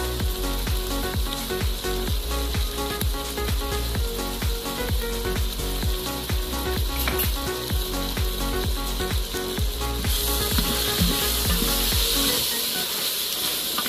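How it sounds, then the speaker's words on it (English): Goat meat for biryani sizzling and being mixed in an Instant Pot, a steady loud hiss of frying with rapid repeated scraping and stirring strokes throughout, close up, no talking. "Mix the meat in well for about 5 minutes."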